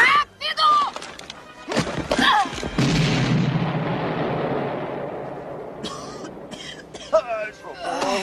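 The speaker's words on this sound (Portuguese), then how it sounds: "Tire o pino, jogue a granada." A hand grenade explodes in a comedy film: a loud, broadband boom hits after a short exchange of voices, then rumbles and fades slowly while people keep talking over the dying roar.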